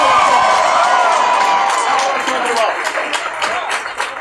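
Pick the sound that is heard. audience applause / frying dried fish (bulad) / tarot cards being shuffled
audience applause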